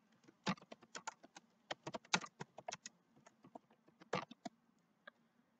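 Quiet keystrokes on a computer keyboard, irregular taps in short bursts with brief pauses, close and alone.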